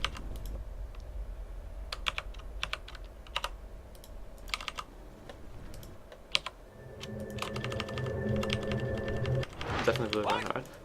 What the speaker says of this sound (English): My keyboard actually has black switches.